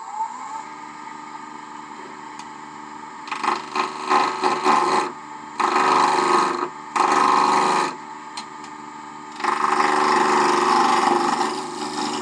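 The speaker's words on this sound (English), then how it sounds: "So I'm going to cut down here to establish my tenon first," A lathe spins a wood-turned cube while a tool cuts a tenon, a steady motor hum broken by bursts of harsh scraping and rasping bites into the wood, close and loud, with brief pauses between cuts.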